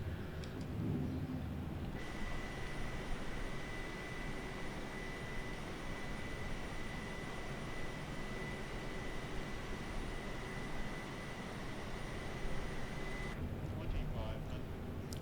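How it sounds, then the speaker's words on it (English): Landing gear lowering on a Boeing 777-300ER in Microsoft Flight Simulator 2020: a steady mechanical whine and rumble that swells in about two seconds in, holds over the continuous cockpit engine drone, then drops away near the end. "as I'm going to cross the final descent point, I can lower the gears"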